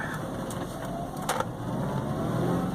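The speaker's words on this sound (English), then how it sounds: "There's that first gear whine, typical of all A series engines." A 1989 Austin Metro City's A-series engine pulling away in first gear with a steady mechanical gear whine over a continuous low rumble, close and moderately loud.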